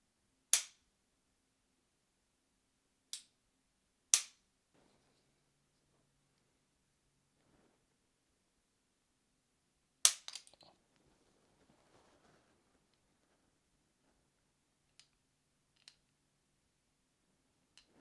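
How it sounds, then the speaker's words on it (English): The trigger of a Sig Sauer P226 X5 is pulled against a trigger pull gauge, giving a few sharp, isolated metallic clicks spaced several seconds apart, with faint handling rattles between them in an otherwise quiet room. "let me go ahead and put it on the trigger pull gauge for you and see what is actually coming in at"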